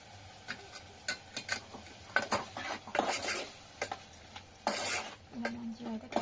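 Spoon stirring chili powder and salt into eggplant curry in a pan, irregular close metallic scrapes and taps against the pan with a faint sizzle underneath, moderately quiet.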